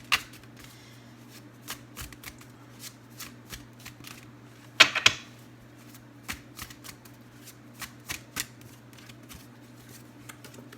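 Tarot cards are shuffled by hand in a quiet room, with soft repeated riffling flicks and a louder burst of card slaps midway, with no talking.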